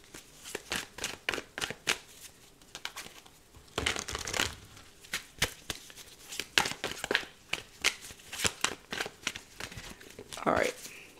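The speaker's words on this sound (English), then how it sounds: "the Five of Pentacles just fell out of this deck whilst I was shuffling" A deck of tarot cards is shuffled with rapid riffling flicks, close by, while someone talks softly in between.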